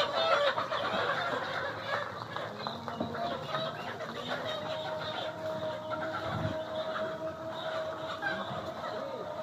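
Layer hens in a poultry shed cluck and murmur continuously at moderate distance, a steady flock chatter with occasional louder calls over a constant background hum.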